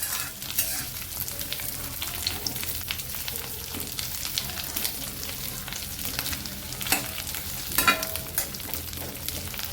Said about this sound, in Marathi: काजू सुद्धा भाजून घ्यायचे